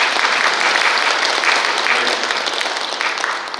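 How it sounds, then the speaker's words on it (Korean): Loud, sustained applause from residents at a Korean New Year town-hall meeting, many hands clapping together in a thick wash that holds steady, then eases slightly toward the end. "이렇게 박수를 크게 치시면 안 해주실 수가 없을 것 같아요"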